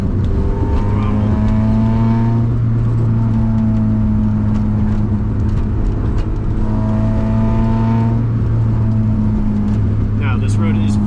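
A car engine revving hard as it accelerates after a heel-toe downshift into second on a bumpy road, a loud sustained engine drone rising and falling in pitch from inside the car, with someone talking over it throughout.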